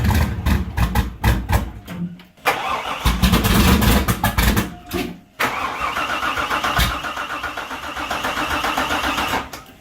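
A project car's engine cranks repeatedly, with rapid stuttering turnover, falters, and then catches into a rough, steady idle, close and loud, with no voices.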